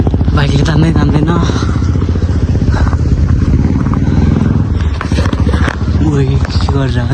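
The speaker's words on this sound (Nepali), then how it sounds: "अफरोडमा त बाइकले तान्दै तान्दैन" A motorcycle engine strains on a rough off-road hill track, a steady loud drone with rattling, heard close while a voice talks over it.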